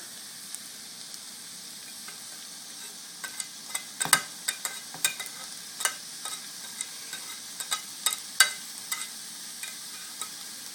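Cumin and coriander seeds sizzling and frying in a hot pan for a chickpea curry, a steady crackling hiss broken by scattered sharp pops and stirring clicks, close and moderately loud with no voice.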